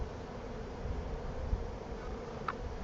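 Honeybees buzz steadily around a live beehive, a continuous close hum with one brief louder pass of a single bee near the end.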